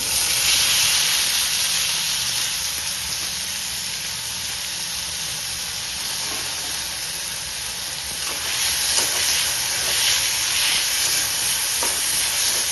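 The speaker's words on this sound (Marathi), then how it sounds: "तेल गरम झाल्याच्या नंतर त्यामध्ये चिमूटभर जिरे टाकून देते आणि ही मटकी यामध्ये टाकून देते." Moth beans and a pinch of cumin fry in hot oil, producing a loud, continuous hissing sizzle with brief stirring scrapes.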